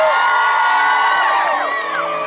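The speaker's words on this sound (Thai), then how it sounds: "ขอเสียงปรบมือหน่อยกันนะครับผม" Concert crowd at Siam Music Fest cheering for a Thai boy band, loud, high-pitched screams and whoops layered in a dense swell that eases slightly toward the end.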